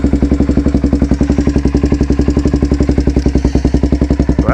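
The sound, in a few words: Polaris Predator 500 ATV engine starting and idling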